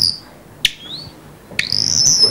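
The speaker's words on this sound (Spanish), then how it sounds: "¿cómo suena el ruiseñor?" Nightingale song: a sharp high chirp followed by a rising whistled phrase, then a sustained bright warbling trill, fairly close and clear over a quiet background.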